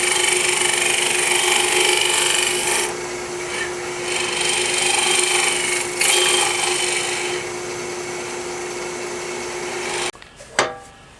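A 12mm cutter turning Ambrosia maple edge grain in sweeping cuts, giving a steady, close scraping hiss with rhythmic swells that runs for about ten seconds before stopping, followed by a couple of faint knocks.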